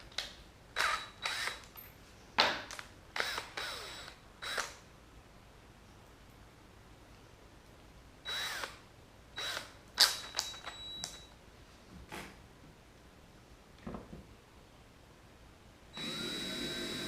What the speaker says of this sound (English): Okay, so I've got all my pilot holes drilled.